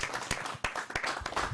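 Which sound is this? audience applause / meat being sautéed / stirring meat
audience applause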